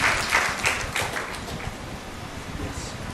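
A crowd claps together at a mosque open day community gathering, a steady wash of applause that stays fairly even and slowly tapers over a few seconds.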